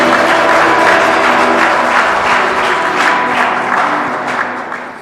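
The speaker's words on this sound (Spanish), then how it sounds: "Un aplauso al Señor." A church congregation at a Christmas Eve evening Mass applauds loudly and densely for the whole stretch. The applause eases slightly toward the end.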